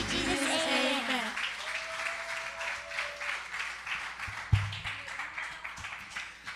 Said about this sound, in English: Round of applause one more time for our families